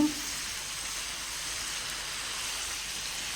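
Prawns frying in a pan for a pepper fry, giving a steady, close, even sizzle that holds for a few seconds with no talking.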